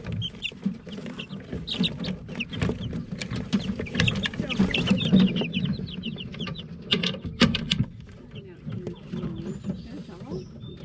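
Young chicks peep and cluck busily up close, a chorus of high chirps with some faint voices in the background.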